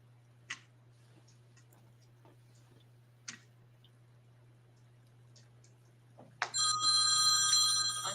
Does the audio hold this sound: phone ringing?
yes